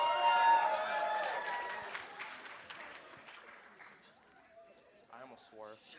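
Crowd applause and cheering at a wedding reception for the groomsmen, loud at first and tapering off over several seconds, with chatter and a voice speaking near the end.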